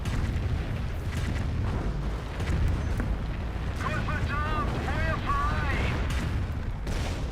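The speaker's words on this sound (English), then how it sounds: "And here comes the Calliope Barrage." Calliope rocket barrage in Company of Heroes, a dense rumbling wash of explosions and artillery booms with whistling rocket streaks midway, loud and continuous, with battle chatter beneath.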